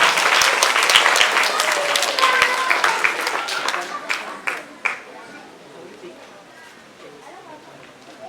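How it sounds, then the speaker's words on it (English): Audience at a mathematics festival bursts into loud, close applause that fades over several seconds into quieter scattered claps, with a speaker's voice audible throughout and a few sharp hits near the end. "A round of applause for me too."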